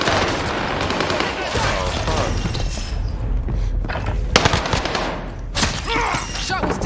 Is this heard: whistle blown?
no